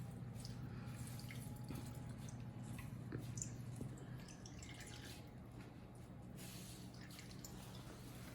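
Water dripping and trickling from grated zucchini squeezed in a towel, a faint steady wet patter with soft squishing, continuous and low throughout.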